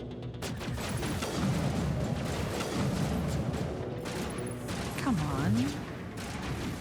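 Gunfire in the video game Mass Effect 1, bursts of weapon shots and rattling impacts amid combat noise, with someone talking over the action.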